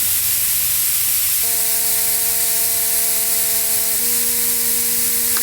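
Tire deflator on a valve stem releasing air: steady loud hiss throughout, with a whistling tone that appears partway, then shifts pitch and continues to the end.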